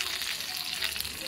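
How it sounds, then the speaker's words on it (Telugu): Fish pieces fry in a pan with a constant close, crackling sizzle that holds steady throughout the short stretch, with no voices. "ఇంకా ఫ్రై అవుతూనే ఉన్నాయండి, ఇంకో 2 ముక్కలు ఉన్నాయి"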